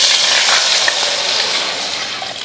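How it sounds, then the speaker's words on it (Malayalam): Arrowroot payasam mixture is stirred steadily in a greased urli, a continuous close, loud bubbling sizzle with a broad hissing texture and no voices. "നല്ല പോലെ ഇളക്കുക"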